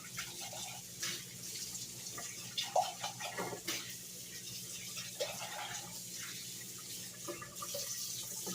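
Running water from a kitchen tap splashes steadily into a sink as a cup is rinsed out, a continuous close hiss with a few brief louder splashes and knocks, no talking.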